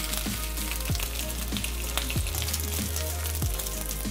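Chicken fillet schnitzels frying in a pan, a loud continuous sizzle with occasional sharper pops and crackles, close up and without talking.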